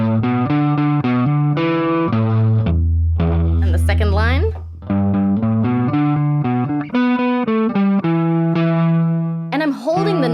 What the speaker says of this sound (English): I've got an octaver on, so actually I'm playing it up high